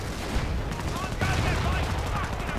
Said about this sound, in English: there we go, the flak firing